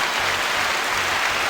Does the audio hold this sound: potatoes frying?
no